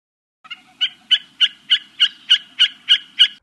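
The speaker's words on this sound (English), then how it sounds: "A Wilson snipe." A Wilson's snipe call in a Dinosaur Train backyard bird game: a loud, close series of about ten sharp, evenly spaced calls repeating at a steady rhythm, alone against a faint low hum.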